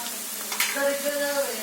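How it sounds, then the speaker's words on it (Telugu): Ginger garlic paste fries with softened onions in a pan for a raw shrimp curry, giving a short, close, steady sizzle with a brief sharper crackle as it goes in. "ఇందులో అల్లం వెల్లుల్లి పేస్ట్"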